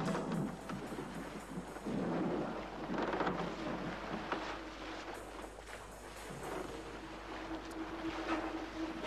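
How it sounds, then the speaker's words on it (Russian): A thunderstorm approaches with a loud, continuous rumble of thunder and a steady rain-like hiss throughout, and no voices. "Гроза приближается."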